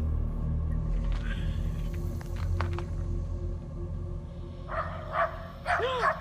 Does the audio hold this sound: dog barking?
yes